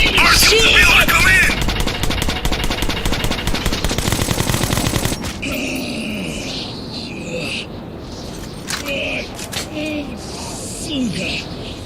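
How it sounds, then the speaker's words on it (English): Video game gunfire in Metro 2033, a loud rapid burst of automatic fire up front, then sporadic shots and clatter with game voices and creature sounds in the background. "Shoot, Artyom! Shoot!"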